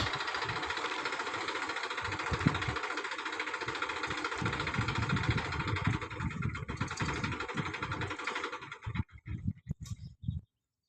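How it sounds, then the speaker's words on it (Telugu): A tractor engine runs with a constant low rumble, steady and fairly loud, then breaks into uneven sputtering bursts before stopping near the end. "మా బాబాయ్ అయితే ట్రాక్టర్ తీసుకొని వచ్చాడు దాన్ని లాగడానికి"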